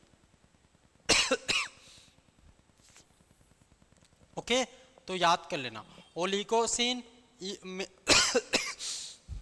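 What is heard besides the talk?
cough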